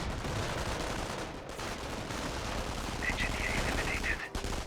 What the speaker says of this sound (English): 30 cal here, firing away.